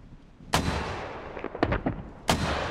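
Artillery fire in a military video game, two loud sharp booms about two seconds apart with a rumbling tail after each and a cluster of smaller distant blasts between them.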